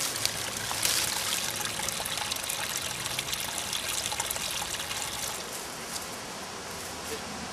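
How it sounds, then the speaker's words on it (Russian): A small waterfall about 50 cm high where two stream currents meet, giving a steady, close, rushing and trickling water sound that continues throughout. "Мини-водопад. Примерно 50 сантиметров высоты."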